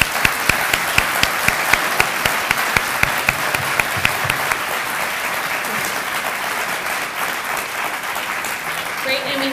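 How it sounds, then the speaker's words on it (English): A conference audience applauds panelists at the close of a city-building session on streetscapes, with sharp close claps standing out at first over a steady crowd of clapping that continues throughout. "Let's give a round of applause to everybody."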